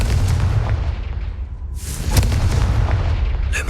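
A loud, booming explosive spell burst goes off in a Harry Potter video game, a dense low rumble with a sharp blast partway through and further crackling pops after it.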